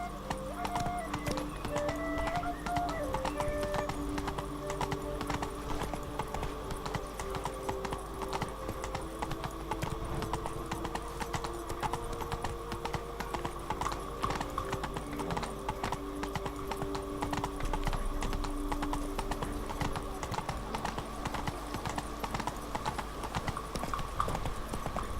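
Roach the horse clip-clops steadily through The Witcher 3's Blood and Wine expansion, hoofbeats running without a break under game music and ambient sound, with occasional speech over it.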